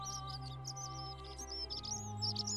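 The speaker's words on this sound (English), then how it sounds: "why is that the loudest bird I've ever heard in my life?" Bird call in the video game The Forgotten City, a run of loud, high chirps and whistles repeating over a steady hum of background game music and ambience.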